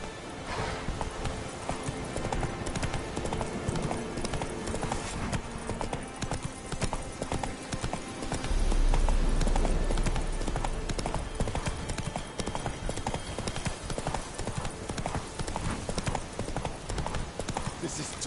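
Horse hooves clip-clop at a steady gallop through The Witcher 3 game world, loud and continuous for the whole stretch, with an occasional whinny and a voice speaking over the hoofbeats.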